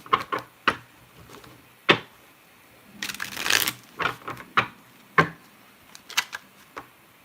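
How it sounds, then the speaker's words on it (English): Oracle cards are shuffled by hand in sharp, irregular riffles and taps, a few seconds of denser rustling in the middle, close and crisp against a quiet room. "let's do a shuffle"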